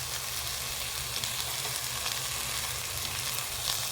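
Vegetables for cauliflower pulao sautéing in a pressure cooker pan, a soft steady sizzle close by, faint and even with no voices.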